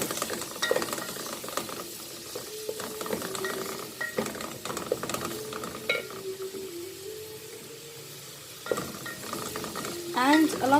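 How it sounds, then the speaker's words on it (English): Onions stir-fried in hot oil in a pot for Arabic maqluba, a steady sizzle with repeated scraping stirs of a utensil against the pot, close and continuous with no talking. "into oil I'm going to add this onions, and I just want to stir fry them"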